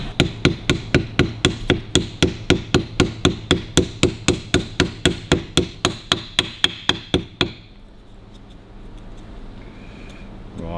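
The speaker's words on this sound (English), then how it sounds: "you just get yourself a hammer, gently tap that home." A hammer taps a washer into place in a 1942 Harley-Davidson WLA gearbox in a steady, even rhythm, about two dozen sharp light strikes close by, then stops, leaving quiet room noise.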